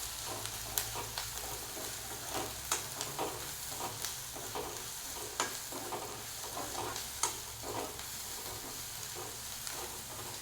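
Salted ingredients sautéing in a pan toward browning, with steady close sizzling and frying hiss broken by repeated scraping stir strokes and light clicks.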